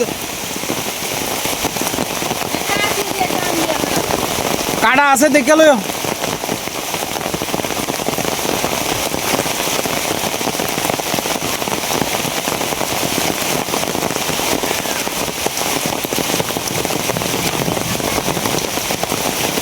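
Heavy rain falls steadily on an outdoor morning, a dense continuous hiss throughout, with brief talk and a sharp crackling burst in the middle.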